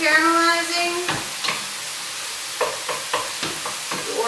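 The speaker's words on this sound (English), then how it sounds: "so we've got the beefs cooking. We got the onions caramelizing." Ground beef and caramelizing onions frying in a pan, a close crackling sizzle broken by several sharp stirring scrapes, with a faint voice briefly at the start.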